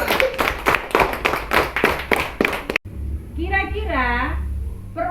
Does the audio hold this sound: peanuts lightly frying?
no